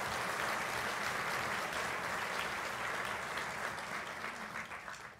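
An audience at a university scholar-athlete banquet gives a steady round of applause, dense and sustained, tapering off in the last second with no talk over it.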